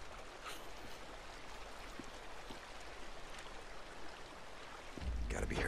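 Creek water flowing steadily in the video game Days Gone, a continuous broadband rush like a stream over rocks, with a louder burst of sound near the end.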